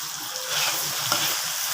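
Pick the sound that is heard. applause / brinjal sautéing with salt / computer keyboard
brinjal sautéing with salt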